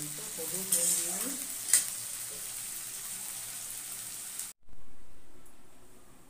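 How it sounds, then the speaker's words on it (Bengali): Potatoes frying and being stirred in a pan in a home kitchen, a close sizzle with scraping stir strokes that cuts out abruptly and leaves a quieter hiss. "আলুটা ভাজা হয়ে গেলে এখানে একটু হলুদ নুন দিয়ে নিই"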